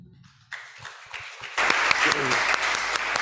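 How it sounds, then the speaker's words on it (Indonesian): An audience at an academic community-service results presentation starts applauding, the claps building from sparse to fuller and mixed with talking. "Beri tepuk tangan ya."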